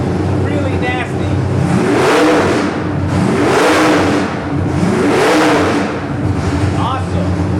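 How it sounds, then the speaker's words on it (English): A Nelson Racing 441 ci nitrous small-block Chevy from the Hot Rod Series, fitted with a 1050 CFM custom carburetor, revs sharply in three loud, snappy bursts over a heavy running rumble, with a voice speaking at moments. "listen to how snappy this thing is. It's a 447, or this is actually a 441 Nitrous Hot Rod Series"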